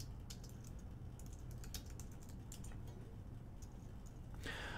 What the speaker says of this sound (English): Hold on, I'm typing in at the same time.